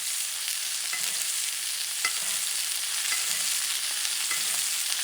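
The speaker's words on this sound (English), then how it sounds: "Then you spoon the hot butter." Steak sizzles steadily in a tilted pan as hot butter is spooned over it again and again, with a few soft spoon knocks against the metal at intervals over a constant loud hiss.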